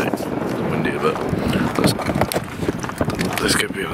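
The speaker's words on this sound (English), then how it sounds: "Oh my god, it's windy." Strong gusty wind on a rooftop roars and buffets the microphone continuously, loud and rough, with a voice partly audible beneath the noise.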